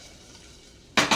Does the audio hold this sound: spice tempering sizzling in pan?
yes